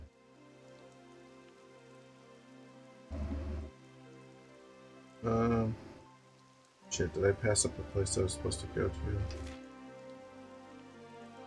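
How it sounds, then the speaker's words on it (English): Rain falls in the Dragon Quest XI video game as a steady, continuous patter throughout, with a person talking over it in short bursts. "I just can't see because it's like raining"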